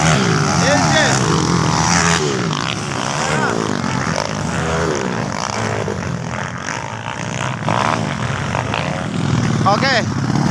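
A loud engine roars continuously and close, its pitch wavering as it revs, while people shout and talk over it throughout.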